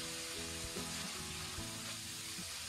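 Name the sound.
stir-frying small river shrimp in a wok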